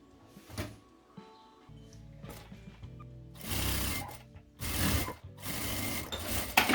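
A sewing machine stitches a seam along a fabric edge in short bursts, quiet whirring runs separated by pauses and light handling noises, close and fairly soft.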